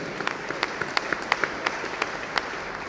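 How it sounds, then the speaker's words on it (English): Sparse, light clapping from a summit audience after a speech in Hyderabad, a handful of distinct claps spaced irregularly over a low background, fairly quiet and thin rather than a full ovation. "I think you guys deserve a big round of applause."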